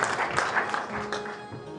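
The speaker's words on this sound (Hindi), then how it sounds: "एक बार जोरदार तालियों के साथ आप स्वागत करें मुनव्वर राना साहब" An audience at a Diwali kavi sammelan bursts into clapping to welcome a poet, a brief spell of loud applause that thins out and fades within a couple of seconds.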